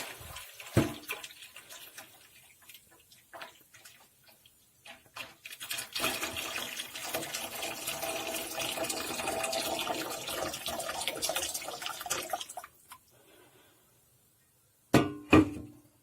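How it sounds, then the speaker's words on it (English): Hot water from a kettle poured down a clogged drain, a rushing, splashing pour lasting several seconds at moderate volume, preceded by small clinks and followed by a quiet pause and a few sharp knocks. "I put on a kettle of water, and I'm just going to pour that"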